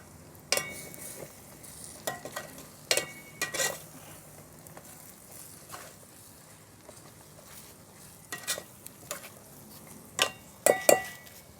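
Metal utensil scraping and clattering against a pot as fish is stirred and dry-roasted, with a soft sizzle underneath and bursts of clinks at irregular intervals.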